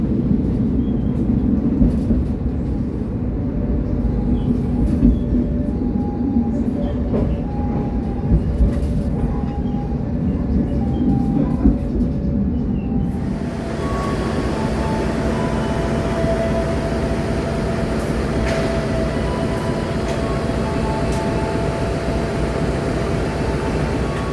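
The Ijen Express passenger train in East Java rumbles along steadily, a continuous low roar of wheels on track that turns brighter and hissier about halfway through.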